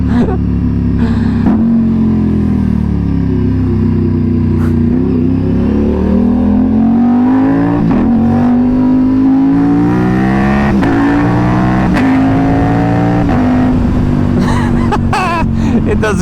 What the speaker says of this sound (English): to hear the exhaust.